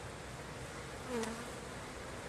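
A steady, dense honey bee buzz at a hive in late winter fills the whole stretch, many bees droning together close by, with one brief louder swell in the middle.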